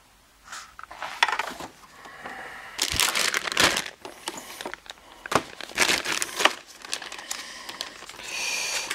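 Plastic crinkling and rustling while someone rummages through a spare bag holding tubing for checking gas pressure, in bursts of crumpling close to the mic with brief pauses between handfuls.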